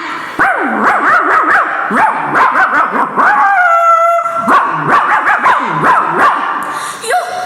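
A mimicry artist on stage at a Kerala school arts festival imitates street dogs with his voice, producing a loud, continuous run of barks, yips, whimpers and drawn-out howls.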